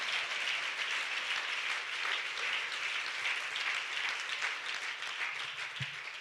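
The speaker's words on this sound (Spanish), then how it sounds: "Dele ese aplauso fuerte al Señor." A congregation at a national women's church camp applauds loudly and steadily, a dense wash of clapping filling the whole stretch with no talk over it.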